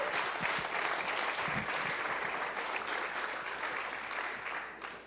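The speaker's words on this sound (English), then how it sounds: "Let's give a round of applause for Parker Lewis" Conference audience bursting into sustained applause for Parker Lewis of Unchained Capital at the Beef Initiative Conference, a full, even wash of clapping that slowly tapers near the end.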